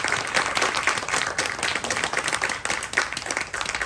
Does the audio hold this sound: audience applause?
yes